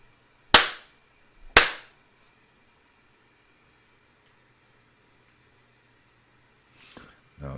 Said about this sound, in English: I'm going to do the clap first.